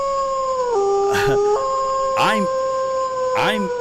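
A man mimics a dog howling, stretching out three drawn, wavering howls with a yelping break, loud and close, while a steady electronic tone hums underneath.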